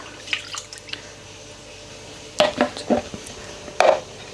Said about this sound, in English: gently just add that in to the bowl where we added the yogurt. Stir that.